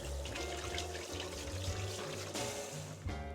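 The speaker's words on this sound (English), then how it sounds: "And I'll wash my hands thoroughly." Tap water runs steadily into a sink while hands are washed beneath it, a close, continuous splashing with small shifts as the hands move through the stream.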